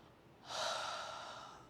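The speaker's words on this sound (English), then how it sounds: "We're gonna start as always with our ocean breathing." One audible ocean-breath exhale, pushed out through the mouth during a chair yoga session, rises into a soft, airy rush and fades slowly, heard close and alone.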